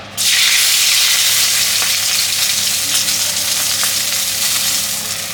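Bay leaf and spices dropped into hot oil, hissing in a loud, steady sizzle that starts abruptly and keeps crackling for several seconds, close up and alone.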